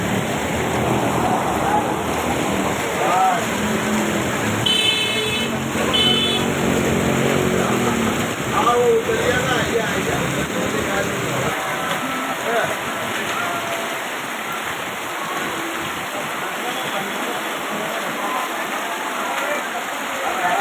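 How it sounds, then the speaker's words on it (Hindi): Heavy torrential rain pours down for two hours over city streets and flooded intersections in Neemuch: a constant loud hiss of downpour with splashing water, and a few brief tones near the middle. "नीमच में हुई 2 घंटे की मूसलाधार बारिश में शहर का फुव्वारा चौक व अन्य चौराहों पर"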